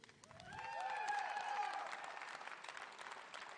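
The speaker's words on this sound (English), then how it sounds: "let's give him a round of applause" Applause and cheering from a livestock show crowd greeting the champion balancer bull futurity winner at a Gelbvieh junior cattle show, sustained and fairly loud through the moment, with a few whistles or shouts rising above the clapping.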